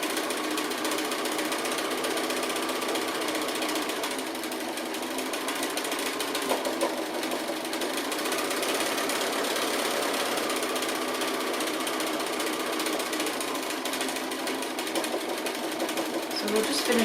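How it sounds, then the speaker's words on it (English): A sewing machine runs steadily and close by for the whole stretch, doing free motion stitching on appliqué with a continuous rapid mechanical chatter. "you can use free motion stitching for all kinds of decorative stitching"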